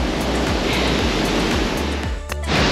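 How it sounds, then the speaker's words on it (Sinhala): Devil's Punchbowl waterfall at Arthur's Pass roars close by as a loud, continuous broadband rush of falling water, with spray and wind buffeting the microphone. "ඔන්න තියෙනවා දියල්ල Devil's Punchbowl."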